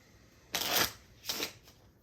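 Two quick riffling bursts of playing cards being shuffled, close and crisp, with a short pause between them.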